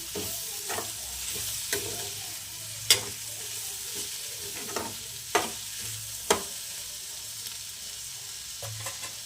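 Tomatoes are stirred into frying okra curry, a low steady sizzle under irregular spatula scrapes and clinks against the pan, close by with no voices.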